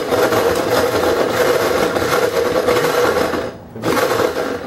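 A blender pulses to crush hard ice for a mojito: a loud, close, steady grinding roar that cuts out briefly near the end, then resumes.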